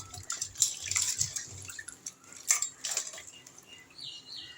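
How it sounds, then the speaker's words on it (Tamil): Crab being washed by hand in a vessel of water, with close splashing, dripping and sloshing in uneven bursts and a few light clinks of shell or container, with no voices. "ஒரு அஞ்சாறு தண்ணியில் நல்லா கழுவிப்போம்"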